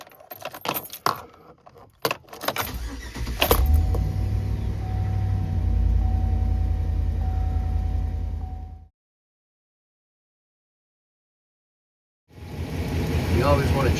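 A Chevrolet Express AWD van with 266,000 miles jangles its keys, then the engine starts and idles with a steady low rumble for several seconds before the sound cuts out and resumes.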